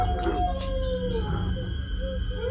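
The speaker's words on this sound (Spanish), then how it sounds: "el animal trataba de entrar, rascando las paredes y aullando de una forma terrorífica" A creature, a nahual, howls in a horror sound effect, one long, loud wavering howl with gliding pitch over a heavy low rumble, with no talking.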